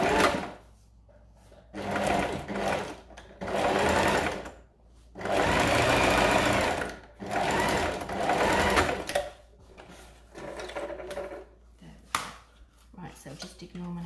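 A sewing machine stitches oilcloth in several loud, close bursts of rapid whirring that start and stop at intervals, with quiet pauses between runs and brief faint voice in the gaps.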